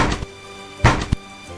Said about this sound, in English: But the knock came again